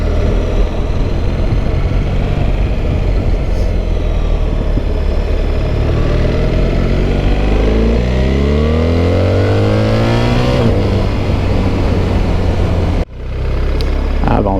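A BMW R1300GS motorcycle fitted with an Akrapovic exhaust revs hard and close, its raspy engine note climbing steadily in pitch before cutting off abruptly near the end.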